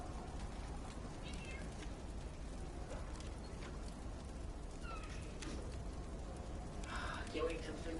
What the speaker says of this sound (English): God, I love that cat.